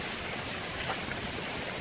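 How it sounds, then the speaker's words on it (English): Heavy rain pours steadily and runs down a country lane and its ditches, a dense continuous hiss of water with no voices. "It's actually raining less hard now. But pretty hard nonetheless."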